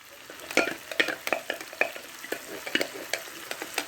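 Canned diced tomatoes in juice, a 14.5 ounce can, go into a hot skillet, crackling and sizzling while a utensil scrapes and stirs in a quick series of close, sharp strokes, with no voices.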